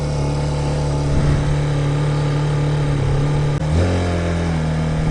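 Brozz 250 Chinese motorcycle engine idling fast and steady with the choke off, a loud continuous drone that dips briefly before settling back to a high idle.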